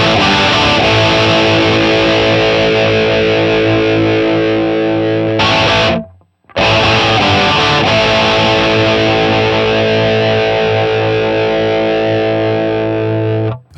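Electric guitar played through an L6 Elmsley amp model on a Line 6 POD Go with the amp drive turned up, giving loud, distorted sustained chords that ring out, stop briefly for a near-silent gap, then resume.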